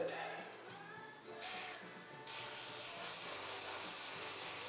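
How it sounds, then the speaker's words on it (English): An airbrush sprays a light coat of paint inside a Dodge 330, giving a soft, steady hiss that starts, cuts out briefly and resumes, close to the microphone and moderately quiet. "I'm just a light little spray, nothing to it."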